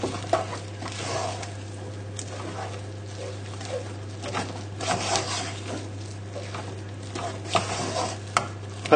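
Rocket leaves stirred into mashed potato in a pan, giving soft scraping and patting spoon sounds at close range over a steady low hum, with a few sharper knocks along the way.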